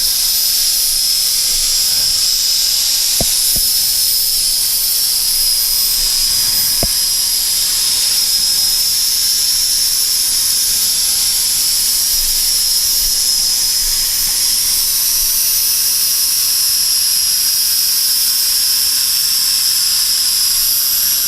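Motors of a SYMA X9 flying car drone hovering on a low battery produce a continuous high-pitched whine, steady and fairly loud for the whole stretch with a couple of faint clicks.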